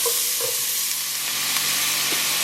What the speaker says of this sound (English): I'm just going to stir these together for a bit, cook them until the onions are nice and translucent